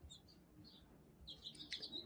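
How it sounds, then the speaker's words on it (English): Birds chirp after the rain has stopped, faint high tweets coming in short bursts that grow busier toward the end, distant and quiet, with no talking. "You see the birds chirping?"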